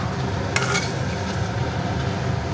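Fried coconut being stirred and lifted out of a pan: a close, steady frying hiss with a sharp metallic scrape near the start as the spoon works the pan.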